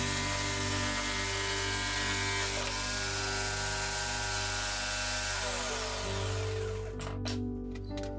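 A table-mounted jigsaw cuts through an old pallet board with a loud, steady buzzing motor whine that holds for several seconds, then sputters into a few choppy stops near the end.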